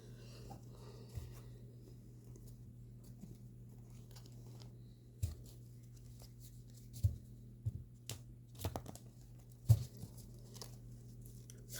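Tarot cards are shuffled and drawn at a quiet table: soft, scattered card slaps, flicks and rustles over a low steady hum, with a few sharper snaps near the end.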